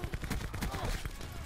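Shotgun blasts from an enemy in an online Black Ops 4 match crack out as a quick cluster of heavy, booming bursts, fairly close and dense, with the game's background noise underneath.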